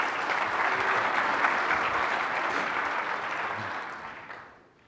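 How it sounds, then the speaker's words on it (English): An audience at a technology conference on enterprise cloud computing applauds a speaker, giving steady sustained clapping from a full room that fades out near the end. "Let's give a big hand to our speaker."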